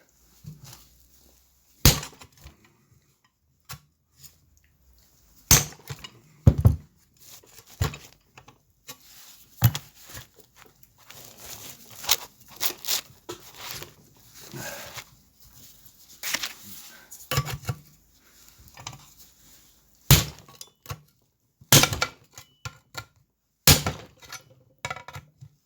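Metal chisel tapping and prying at a part on a VW Polo 1.9 TDI: sharp irregular clicks, knocks and scraping bursts spread through the clip, close and fairly loud between quiet gaps, with occasional faint talk.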